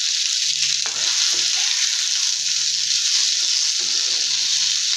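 Small onions and small tomatoes sauté in a pan, giving off a loud, steady sizzle with occasional soft stirring knocks underneath. No one speaks.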